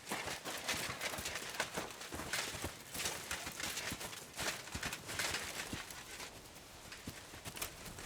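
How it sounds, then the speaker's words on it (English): Horse hooves clip-clop steadily and continuously in Kingdom Come: Deliverance II, a brisk rhythmic beat of close, clear strikes over a constant outdoor background, with no talk. "what a beautiful horse."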